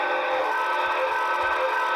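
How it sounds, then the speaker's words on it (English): A quilling steam train whistle sounds as a sustained, slightly wavering multi-tone blast that holds steady and fairly loud for the full moment with nothing else around it. "Now let's check out the quilling whistle."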